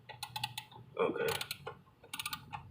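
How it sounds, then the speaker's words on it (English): Ratchet wrench snugging down the throttle body bolt on a 2012 Chevy Impala, a run of quick close clicks and mechanical creaks with short bursts, some speech-like sound mixed in. "You ratchet it till it's snug."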